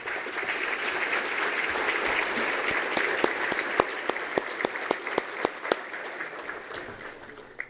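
Sustained audience applause at a civic State of the City address in San Marcos, a dense steady wash of many hands with a few sharper individual claps standing out toward the end.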